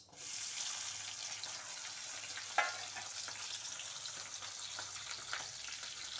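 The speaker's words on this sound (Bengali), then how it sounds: "পেঁয়াজটা একটু ভাজা ভাজা করে নিব," Onions frying in hot oil left over from cooking fish give a steady, quiet sizzle and crackle, with a brief sharp clink or clatter near the middle, no voices.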